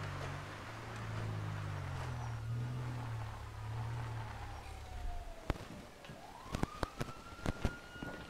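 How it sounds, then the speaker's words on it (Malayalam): A police car siren in the video game GTA 5 wails in rising and falling sweeps over a low engine rumble, steady at first, then broken by sharp clicks and thumps as a fresh siren tone climbs again. "പോലീസ് വണ്ടിയാണല്ലോ."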